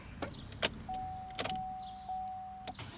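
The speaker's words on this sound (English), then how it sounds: "So it's still a long crank." A 2011 Vauxhall Insignia 1.8 XER with a poor-performance fault cranks for a long time: a faint, steady motor whine drags on for nearly two seconds between scattered clicks and clunks.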